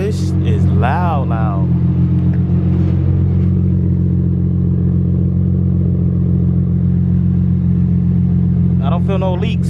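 An Infiniti G37 sedan fitted with an RZG single exit exhaust rumbles loudly with a deep, steady engine drone and occasional rising revs, close by, while someone talks over it at the start and end.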